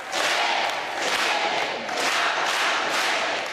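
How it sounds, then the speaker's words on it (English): A large crowd outside Sacred Heart Church in McAllen, Texas, near the U.S.–Mexico border, erupts in loud, sustained cheering and shouting at the sight of Pope Francis, swelling in repeated waves close by. "The crowd erupting into cheers when they see the Pope."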